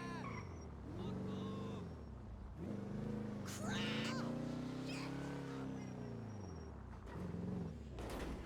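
A video game car engine revving and whining as it reverses into a drift, pitch sweeping up and down over several seconds, with someone talking over it.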